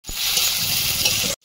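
Chopped onion dropped into hot oil crackles into a loud, dense, steady sizzle for over a second, then cuts off abruptly, while a home cook prepares a chicken gravy.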